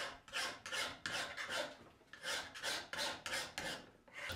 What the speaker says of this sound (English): I'll be using a rasp and files to get the rough outline of the handle